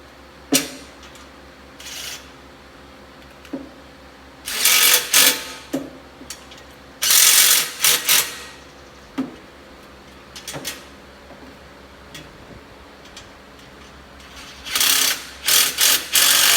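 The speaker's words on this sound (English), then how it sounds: "now I'm gonna grab my 12mm socket" A ratchet with a 12mm socket turns bolts while a Kubota LA526 grill guard is installed, giving scattered bursts of close, rapid clicking between quiet gaps and occasional single clicks.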